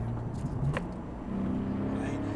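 A Nissan 370Z Nismo pulls in third gear with a low, droning engine note that climbs steadily. Brief talk is heard inside the car.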